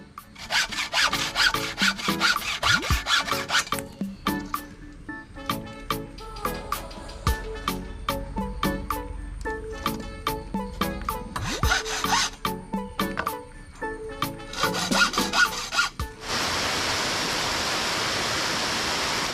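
A saw cuts through an areca palm trunk in rapid rhythmic strokes, loud and close, with short pauses between bursts before a steady rushing noise takes over at the end.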